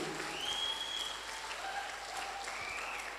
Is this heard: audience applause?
yes